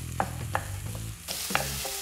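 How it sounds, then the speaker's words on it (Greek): Beef mince sautéing with onion in a pot, stirred with a few distinct scrapes and clacks over a steady, moderately loud sizzle, with no voices. "Το βάζουμε να σοταριστεί μαζί με το κρεμμύδι και τα υπόλοιπα υλικά που έχουμε βάλει αρχικά"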